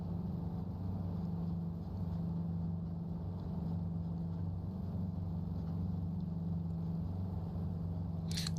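A Waco YMF-5 biplane's heavy radial engine drones steadily in Microsoft Flight Simulator, a constant low rumbling hum with no pauses, ending in a brief high click.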